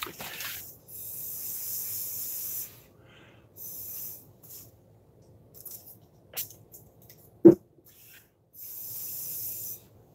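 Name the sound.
spritzing ink with a spray bottle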